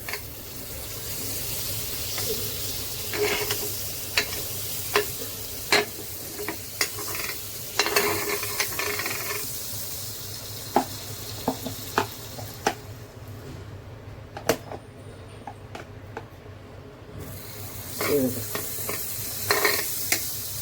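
Butter sizzling on a hot pan while it is spread for a small pan dosa: a continuous soft sizzle runs throughout, punctuated by sharp clicks and scrapes of a utensil against the pan, with no voices.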